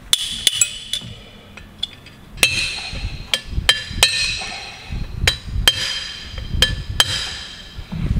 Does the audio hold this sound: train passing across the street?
no